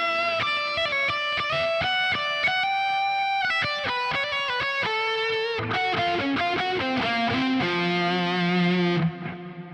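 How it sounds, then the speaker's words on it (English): A Quad Cortex guitar preset through spring reverb, cave reverb and tape delay: distorted guitar plays a quick run of notes, then sustained chords ring out and trail off into washy repeats. "in the back end, you've got a spring reverb into a cave reverb into a tape delay"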